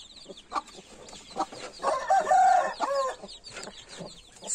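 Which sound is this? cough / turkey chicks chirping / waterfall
turkey chicks chirping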